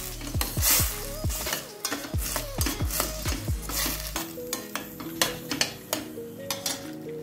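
A spoon repeatedly stirs and scrapes a spiced pasta mixture with red and green chillies and turmeric in a pan, giving sharp, close, uneven strokes over a faint sizzle.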